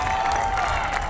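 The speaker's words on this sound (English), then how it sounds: "Dan, that's a very impressive applause you got" Rally crowd in North Carolina applauding and cheering for Dan at a Trump campaign event, a steady dense wash of clapping and voices that holds loud and unbroken throughout.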